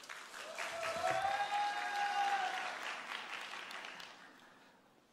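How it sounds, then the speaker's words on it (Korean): Applause from an audience at a university graduation ceremony in a large hall, swelling quickly into sustained clapping, then slowly fading away over several seconds. "뜨거운 박수로 맞이해 주시기 바랍니다."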